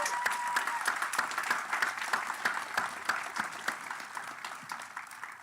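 Sustained applause from a large audience at a college commencement ceremony for student award winners: dense, even clapping filling the hall throughout, moderately distant and fading a little toward the end.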